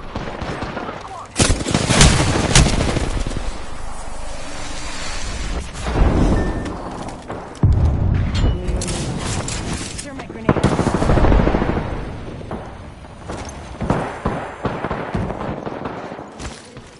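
Gunfire in an Apex Legends battle royale match, loud rapid automatic bursts and single shots that come and go in clusters over many seconds, with a voice speaking briefly amid the shooting.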